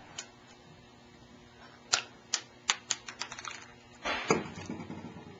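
Small plastic faucet piece from a stainless steel ball kitchen faucet ticks as it bounces into a box, a quick run of light clicks tapering off, followed by a brief rustle.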